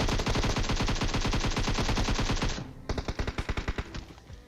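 Rapid automatic gunfire from a video game gun, a loud continuous burst that stops and then returns as a shorter, slightly quieter volley.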